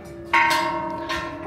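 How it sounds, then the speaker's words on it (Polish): Two Buddhist temple bells in Thailand strike in quick succession, bright metallic tones ringing out and decaying over a second and a half. "to każdy dzwon inaczej dzwoni"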